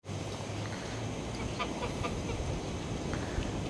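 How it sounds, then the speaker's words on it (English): Faint honking and quacking of ducks and geese come through a steady wash of outdoor noise in Sheldon Country Park, Birmingham, scattered and distant. "Got some ducks and geese there, look nice."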